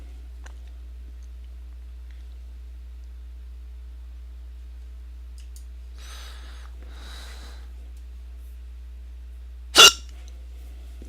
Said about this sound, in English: I hate when I get the hiccups sometimes.